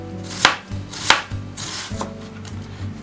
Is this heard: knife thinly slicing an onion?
yes